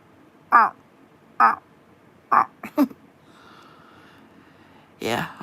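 A person vocally imitates a frog croaking, giving a few short, separate throaty bursts with pauses between them and a longer final burst. No other voices or sounds accompany the imitation.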